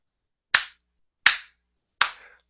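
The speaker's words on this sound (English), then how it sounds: "Golf clap, Stephen." Three slow, evenly spaced single handclaps, each a crisp close slap with a brief tail, in the mocking style of a golf clap; no voices.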